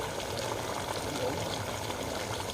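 Water pours steadily at close range into a pot of goat head meat curry, a constant splashing hiss with no pauses.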